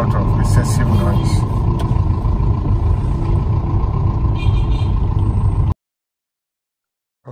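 A car engine with a worn VVT-i gear runs steadily and loudly up close for several seconds, with a constant droning rumble and a mechanical whine. The sound cuts off abruptly and near silence follows.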